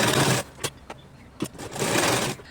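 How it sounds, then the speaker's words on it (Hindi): A sewing machine stitches fabric onto buckram for a neckline, running in two close, loud bursts with a pause of light clicks and handling sounds between them. "अब हमें बकरूम पर सिलाई चलाना है और बकरूम को सिक्योर कर लेना है"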